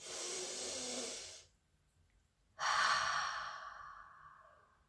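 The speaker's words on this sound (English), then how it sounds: "close your eyes, take some deep breaths in" Slow, deep breaths are taken close to the mic, with a long airy exhale, a quiet pause and then another full, breathy breath that gradually fades.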